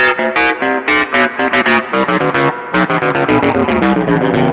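Electric guitar run through a Randy's Revenge ring modulator pedal, producing a dense, loud, metallic and scrambled tone with a rapid series of choppy, rhythmic notes sustained throughout, with no talking.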